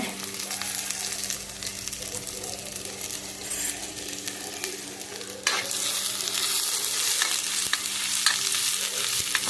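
Onions frying in hot oil while being stirred in a pan, a steady close sizzle with scraping stirs throughout that grows louder about halfway through.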